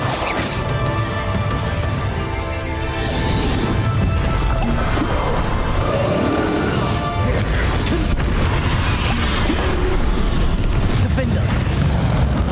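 Confringo fire spell blasts crash and boom repeatedly during a dragon fight in Hogwarts Legacy, loud and continuous amid layered battle noise, with a voice calling out spells.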